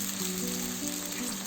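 Sliced onion fries in a pan, giving off a soft, steady sizzle that stays fairly quiet and even throughout the brief moment, with no voices.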